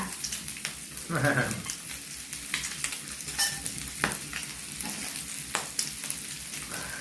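Meat sizzling and spattering on a grill at a New Year barbecue, a steady close crackling hiss with sharp pops throughout and a brief voice murmur near the start.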